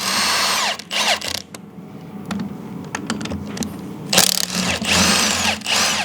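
Power socket tool spinning off 12 mm twelve-point head studs on a blown Can-Am X3 turbo engine, several close, loud whirring bursts separated by clicks and handling noise.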